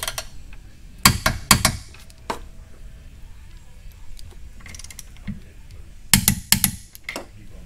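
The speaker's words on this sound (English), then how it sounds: "I'm going to go ahead and torque these mounting bolts, and the two 16 millimeter bolts get torqued to 90 foot-pounds" Torque wrench tightening two 16 mm mounting bolts to 90 foot-pounds during a DIRS install, giving a few sharp clustered clicks near the start and again near the end, with quiet mechanical handling in between.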